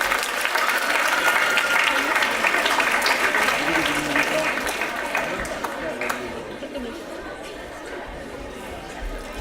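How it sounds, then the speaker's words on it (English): Audience applause for three volunteers at a workshop, a dense sustained patter of many clapping hands with murmured chatter mixed in, gradually thinning toward the end. "give a round of applause for these 3 volunteers"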